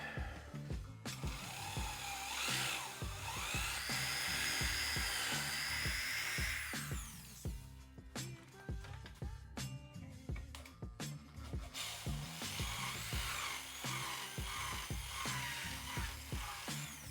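A power drill bites through a BMW M3 motor plate on an LS engine swap, whining in sustained bursts with pitch shifts, then gives way to irregular clanks and metallic taps from working on the plate.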